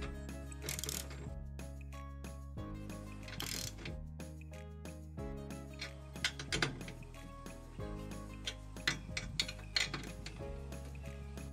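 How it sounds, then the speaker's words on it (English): Nuts being tightened in alternation on the U-bolt and stabilization plate of an eBike hitch rack, giving repeated mechanical ratcheting clicks and clinks in steady bursts, close and moderately loud. "to ensure the U-shaped fastener and plate stay square to the hitch, I alternate the tightening of the nuts."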